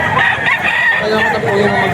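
A rooster about two years old crows loudly and close at the Bocaue auction market in the Philippines, its harsh call filling the moment over a busy market background.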